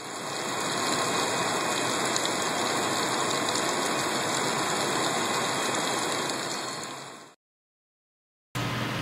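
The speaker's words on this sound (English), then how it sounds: "This demonstrates air flowing through the centrifugal pump during the initial stage" Air rushing through a centrifugal blood pump in a Rotaflow circuit during priming, a loud, steady hissing whoosh with a constant whine that cuts off abruptly into silence before a brief resumption.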